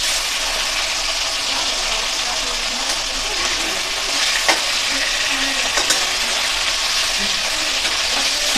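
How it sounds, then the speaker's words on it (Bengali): Fish pieces frying in hot oil in a wok give a steady, dense sizzle that holds at an even level throughout, with a couple of brief sharper crackles and no voices. "কড়াইতে তেল দিয়ে এবার দেখো আমি মাছগুলো ছেড়ে দিলাম"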